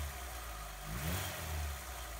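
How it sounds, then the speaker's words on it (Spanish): A car engine idles steadily after its distributor cap and rotor were cleaned, a close, continuous low hum with slight swells in revs and no talking. "Porque arranco el coche, funciona estupendamente."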